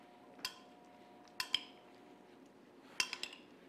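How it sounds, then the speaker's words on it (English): A spoon clinks against a bowl while tossing a garlicky chickpea salad, three sparse light taps spaced a second or so apart over a quiet background. "And I just kind of mix it around."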